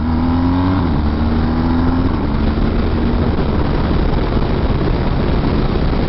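A BMW R1250GS motorcycle accelerating hard on a country road, shifting up through gears with its quickshifter: loud, close engine roar with quick pitch drops at each shift, under heavy wind noise.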